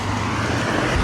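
Road traffic with cars and a loud motorbike going by, a dense continuous roar of engines and tyre noise close to the microphone, with no voices.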